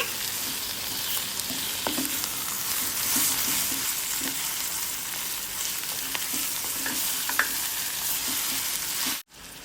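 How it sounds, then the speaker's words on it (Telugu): Marinated chili chicken with onions and curry leaves frying in hot oil, a loud, dense, continuous sizzle with faint stirring ticks underneath, cutting off abruptly just before the end. "మ్యారినేట్ చేసుకున్న చికెన్ వేసి ఆయిల్లో బాగా ఫ్రై చేసుకోవాలి"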